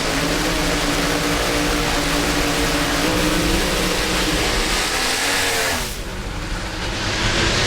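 Drag race cars tear down the strip at the Southern Nationals in Atlanta, a loud sustained engine roar that suddenly drops away near the end as the cars pass.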